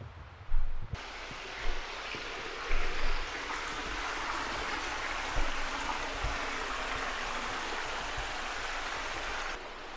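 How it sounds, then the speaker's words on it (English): A river rushes steadily below a woodland track in Reelig Glen, a soft, continuous broadband wash heard from above at a distance, with a few faint footsteps or knocks near the start. "We're a bit above the river now."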